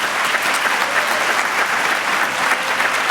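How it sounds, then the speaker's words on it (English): A school assembly audience breaks into dense, sustained applause, many hands clapping loudly and evenly throughout without a break. "I ask you to please join me in giving them all a resounding round of applause."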